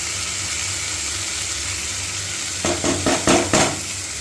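Onions and chopped tomato fry in a pan with a steady close sizzle, and from midway comes a run of scraping stirs in quick bursts over the hiss.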